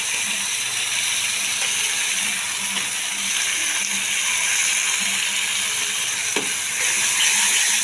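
Spice masala with Kashmiri chili and garam masala fries in hot oil for potato curry (aloo dum), giving a steady close sizzle with occasional scrapes and clicks from stirring and no talk.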